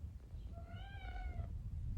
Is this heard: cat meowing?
yes